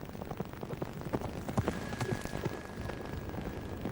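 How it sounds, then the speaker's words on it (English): A galloping horse, a faint, quick run of hoofbeats drumming in an irregular rhythm against background noise. "A galloping horse has only 1 foot on the ground at a time, but it can move really fast."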